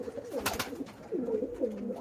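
Breeding pigeons at a home loft coo in low, throaty rolling calls, two bursts of cooing across two seconds, close and fairly clear with a brief rustle between.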